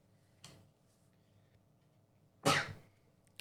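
A person sneezes twice, a faint short burst followed two seconds later by a sharper, louder one, in an otherwise quiet room.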